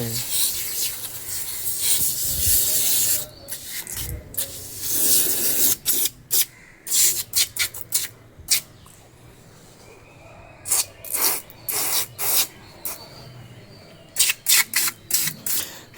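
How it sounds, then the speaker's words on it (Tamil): Bursts of hissing spray from a foaming helmet cleaner come in short irregular puffs, some long and some clipped, with a steady low hum underneath and no talking. "ஏதோ ஸ்ப்ரே மாதிரியில் கொட்டுது"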